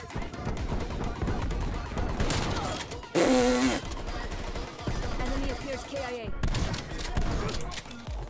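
Shotgun blasts in Call of Duty Cold War multiplayer, several loud booming shots scattered among chaotic gameplay noise, with one sharp burst standing out near the middle.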